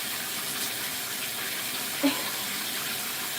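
Shower water runs steadily in a bathroom, a constant broadband hiss with one brief splash or bump partway through and no talking.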